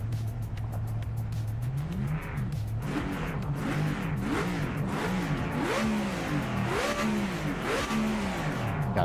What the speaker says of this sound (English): God, this car sounds so damn good.